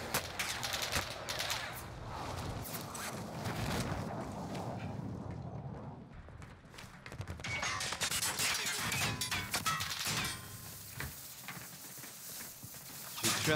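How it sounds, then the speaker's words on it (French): Dense gunfire crackles through a Warzone battle royale match, with sharp repeated shots and impacts over a continuous din of game noise, loud and busy throughout. "On me tire dessus."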